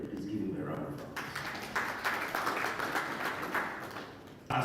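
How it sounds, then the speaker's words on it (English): Steady, moderately distant audience applause fills a conference hall during a strategic-plan retreat, a continuous patter of many hands that fades slightly toward the end. "Please give him a round of applause."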